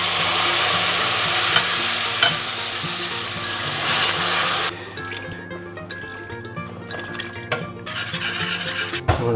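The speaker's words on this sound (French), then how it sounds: "Donc là on va pouvoir commencer à ajouter du bouillon." Broth is ladled into a pan of sizzling beef tongue sauce. Loud, steady frying hiss fills the first half, then the sizzle turns to quieter, irregular bubbling with a few clinks of utensils against the pan.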